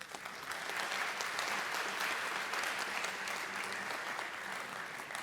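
An audience at a formal conference applauds steadily throughout, with dense, even clapping and no voices.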